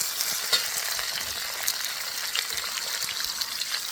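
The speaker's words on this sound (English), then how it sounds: "Always stir fry." Chicken and cashew nuts stir-fried Cantonese style, a steady bright sizzle with scattered crackles and soft scraping of the pan, close and continuous with no talk.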